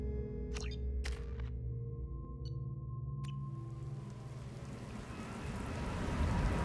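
Rain falls steadily on a planet in the video game Mass Effect 2, building into a broad hiss over low ambient hum, with a few faint chirping tones early on.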